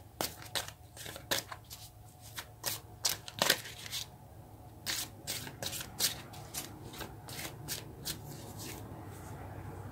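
Tarot cards are shuffled by hand, a series of quick, crisp riffling bursts and slaps in an irregular rhythm, close and fairly quiet, with no talking over them.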